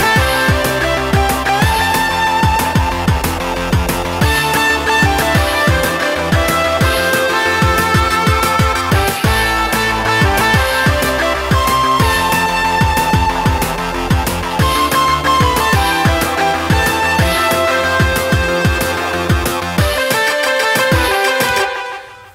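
Retro 80s-style video game song with busy, rhythmic synth layers and short percussive notes, playing continuously and loud until it stops abruptly near the end.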